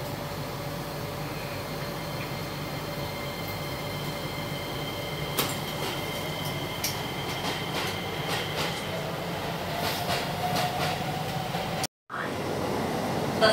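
A Japanese commuter train runs steadily on its rails with a constant low rumble and scattered clicks and clatter, heard from inside the car, with a brief dropout near the end.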